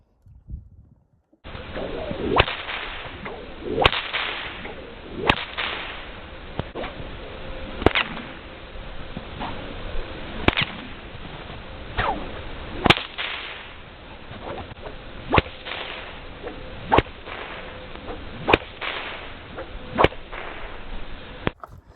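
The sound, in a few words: whip cracking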